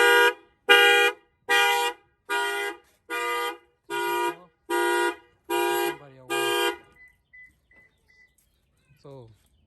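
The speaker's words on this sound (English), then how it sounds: "Let me just lock it to make sure the alarm is there." A locked vehicle's car alarm blares nine loud, evenly spaced horn-like honks, each about half a second, then stops, followed by a few faint chirps and a short voice at the end.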